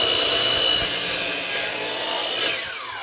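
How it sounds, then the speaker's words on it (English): A saw blade rasps loudly and steadily through a wooden kitchen shelf board at close range, the continuous cutting noise tapering off as the cut finishes. "my blade isn't long enough, so I have to flip it around, cut the other side."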